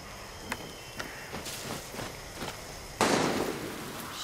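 Gunfire in Far Cry 6 pops as a few sharp, distant shots spaced about half a second apart, followed by a louder, broader blast near the end.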